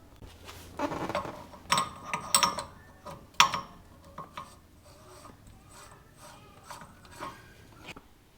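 A socket ratchet tightens a hub nut on a car during a brake and caliper job, giving quiet bursts of close clicking and rasping that are strongest early, then fade to sparse faint clicks, with no talk.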